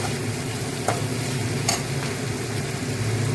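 A cauliflower curry with turmeric stirred in a pan, giving a steady close sizzle with a soft frying hiss and a couple of faint scrapes, no talk.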